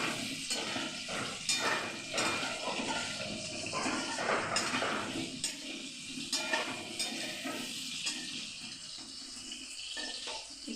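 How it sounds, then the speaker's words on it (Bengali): Asafoetida is stirred in a hot pan for a cauliflower and potato curry, a steady hiss of frying with rhythmic spoon scrapes and clinks against the pan throughout. "হিংটা দিয়ে আবার একটু নাড়াচাড়া করা হচ্ছে।"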